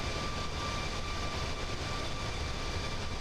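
An AI-controlled airplane in Microsoft Flight Simulator 2024 gives a steady, even engine drone with a faint tonal whine, holding constant throughout with no voices.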